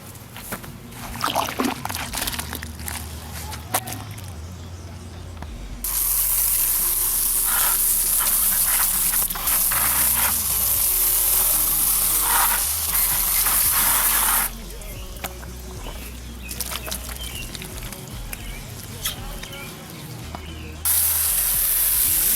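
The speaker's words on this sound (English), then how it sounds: "get ready to clean them up with some soap and water now" Water sprays hard from a hose onto motorcycle wheel rims in long hissing bursts, stopping briefly between passes, with softer handling noises in the quieter gaps.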